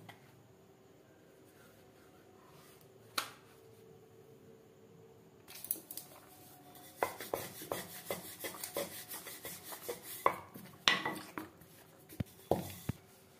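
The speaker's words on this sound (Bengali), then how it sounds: "এবার ময়দা দিয়ে ঠিক এরকম পাতলা করে বেলে নিতে হবে।" Thin flatbread dough being rolled out on a floured surface with a rolling pin, for homemade chicken patties: a quiet stretch, then irregular soft rubbing and scraping strokes, close and unaccompanied by talk.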